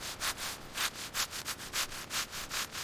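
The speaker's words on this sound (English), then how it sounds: "Brushing wheels." A brush scrubbing car wheels, quick rhythmic rubbing strokes about four per second, close and fairly quiet, with no voices.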